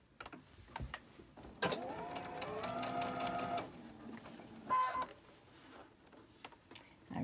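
Sewing machine chain stitching pinned fabric pieces in a quilting setting, running in a steady whirring burst for a couple of seconds with short clicks and handling noises around it.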